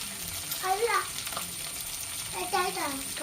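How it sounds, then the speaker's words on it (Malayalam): Fish sizzles in coconut oil in a pan, a steady frying hiss running throughout at moderate level while a voice speaks briefly twice over it. "ഞാൻ വേഗം ഒരു ചട്ടി വെച്ചിട്ട് അതിലേക്ക് വെളിച്ചെണ്ണ ഒഴിച്ച് കൊടുത്ത് മീൻ വറുത്തെടുക്കാമെന്ന് വിചാരിച്ചു"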